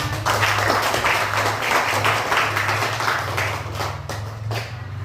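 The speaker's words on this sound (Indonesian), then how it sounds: "tepuk tangan buat kelompok 5" Classmates clap for a student group after its presentation in an Indonesian classroom, a fairly loud, close burst of hand clapping that runs for several seconds with uneven patters and a few sharper claps near the end.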